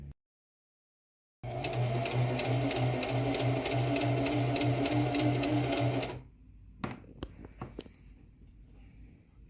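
Home sewing machine running steadily for several seconds with a rapid, even mechanical hum and needle chatter, then stopping, followed by a few faint clicks as the needle is lowered by turning the flywheel by hand.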